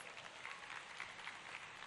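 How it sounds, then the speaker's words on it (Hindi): A large crowd applauds at a public commemoration event in an Indore stadium, a dense, steady patter of many hands clapping from a distance, sustained for the whole short stretch. "ताली बजाना तो जोर से बजाओ जरा।"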